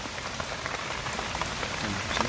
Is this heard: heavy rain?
yes